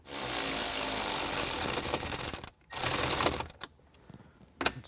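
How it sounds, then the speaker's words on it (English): A power driver runs two 7mm screws into a trim panel on a 2021-or-later Ford Bronco, giving loud whirring mechanical bursts with short pauses between them and a final brief burst at the end. "Let's screw our 2 7mm screws back in, one up here, one over here."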